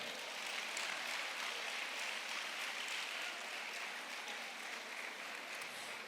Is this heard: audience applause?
yes